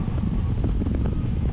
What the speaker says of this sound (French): le vent dans le cou là, pas agréable.